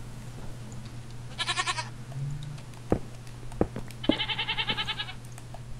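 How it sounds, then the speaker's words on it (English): Goats bleat in a Minecraft game, two bursts of wavering, nasal cries a few seconds apart, mixed with soft clicks and thumps of gameplay and a steady low hum. "Shut up, goat."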